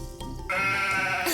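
A man imitates a goat, giving one loud nasal quavering bleat that begins abruptly after a brief quieter moment and holds steady to the end.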